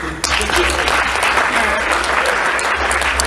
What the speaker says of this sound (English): Round of applause, how many parents?